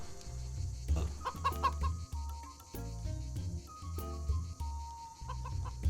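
Chickens in the video game Stonehearth cluck and chatter in short, repeated bursts over a soft game backdrop, fairly close and moderately loud, with no talk.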